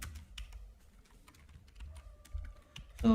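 Rapid, uneven keystrokes tap on a computer keyboard up close, with short pauses between bursts and a louder clack at the end; no talking.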